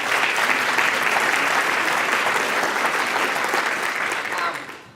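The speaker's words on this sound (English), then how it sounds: "Please, let's give them a little round of applause." An audience at a chamber of commerce event gives sustained applause, a dense wash of many hands clapping that holds steady and then tapers off at the end.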